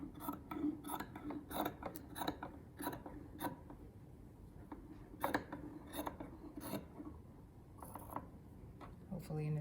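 Fabric seam allowance being trimmed with scissors, soft repeated snipping and rasping cuts at close range in an uneven rhythm, with a quiet background hum.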